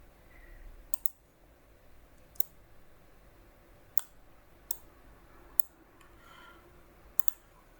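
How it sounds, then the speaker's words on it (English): Computer mouse clicks while working in SOLIDWORKS, about eight faint, sharp, isolated clicks spaced irregularly over a quiet room hum, some in quick double pairs. "Click here and select the vertical axis, then click OK."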